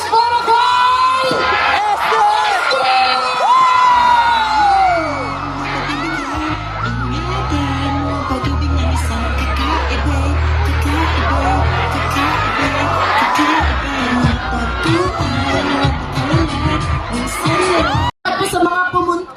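Crowd at a street party celebration whooping, yelling and cheering, with loud bangs and booming music underneath, dense and continuous throughout, with a voice calling out over a loudspeaker.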